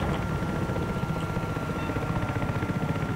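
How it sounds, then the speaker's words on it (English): A helicopter in the video game Battlefield 3, its rotor beating in a fast, steady pulse under a constant engine whine, close and loud throughout. "Get the helicopter out of here"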